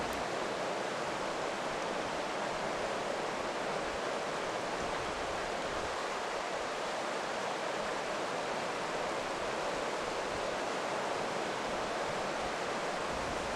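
The Thompson River flows in a continuous, even broadband rush of water, steady and unbroken throughout with no voices.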